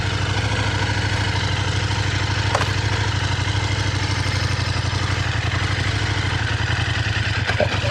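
A KTM 1390 R Duke Evo 2025 motorcycle engine idles steadily close by, a continuous low rumble with mechanical clatter that holds even throughout, with a faint click near the middle.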